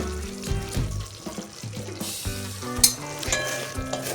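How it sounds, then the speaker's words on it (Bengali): Masala for a Bengali-style cabbage kofta curry, with salt, slit green chillies and kasuri methi, frying in oil on low heat while being stirred, giving a close, steady sizzle with scraping stirs and a soft tonal background, no talk. "আবারও অল্প আঁচে আঁচে আমি মশলাটা কষাইছি।"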